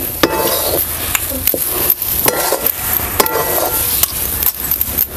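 A potato, besan and rava mixture is stir-fried in a pan, with repeated scraping and knocking of a spatula against the pan over a low sizzle, loud and close, no voices.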